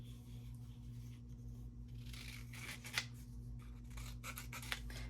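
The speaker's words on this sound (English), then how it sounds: "we'll just fussy cut this one out really quick" Scissors fussy cutting a paper shape for a scrapbook layout, faint snips and rustles of paper over a steady low electrical hum, close and quiet.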